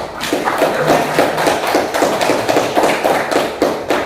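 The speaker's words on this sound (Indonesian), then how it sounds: "kasih aplaus untuk kelompok 1" A classroom audience gives applause to a presenting group, delivered as rapid, fairly loud claps and thumps that continue in a dense, slightly uneven patter throughout.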